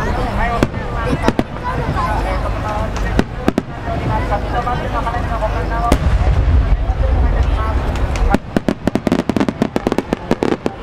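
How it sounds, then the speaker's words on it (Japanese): Large No. 10 aerial firework shells with rising tails and silver-flashing cores burst at a big fireworks display, booming over a dense crowd roar, then a rapid crackle of sharp pops follows. "10号割り物2発、上り玉付き四重芯銀点滅、青シャンデリア"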